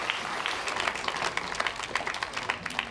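Crowd applause at the official opening of the Breisach wine festival 2023, brisk continuous clapping with crisp individual hand claps standing out throughout.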